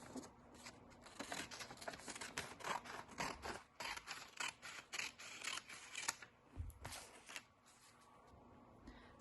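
Scissors snip away excess origami paper to leave a square, a quiet, close series of irregular crisp cuts and paper scrapes with brief pauses between them.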